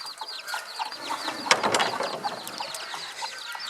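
A bantam hen and her five chicks on a farm, with high chirping and soft clucking close by, plus a brief louder rustle in the middle and no talk.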